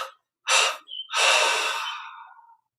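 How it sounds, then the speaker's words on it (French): A person exhales in three separate breaths during a guided breathing meditation, close and breathy, a short puff, a brief pause, then a longer drawn-out outbreath fading to silence. "une expiration en 3 fois"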